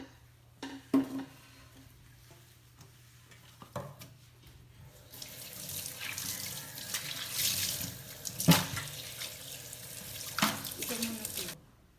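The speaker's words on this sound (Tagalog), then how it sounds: "Lagyan ko ito ng mainit ng tubig" Hot water runs from a tap into a kitchen sink, starting as a soft trickle and swelling to a steady splashing stream, with a few clinks and a voice speaking briefly.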